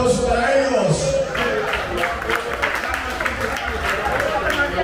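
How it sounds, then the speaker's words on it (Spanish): An audience claps at a Baracoa community gathering in Manhattan, New York. After a brief spoken introduction, a steady patter of hand claps and crowd murmur fills the room at moderate loudness. "Un aplauso para ellos."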